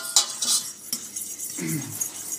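A utensil scrapes and clinks against a pan while carrot cream sauce is stirred, a few light metallic taps and scrapes, close and fairly quiet, with a faint sizzle.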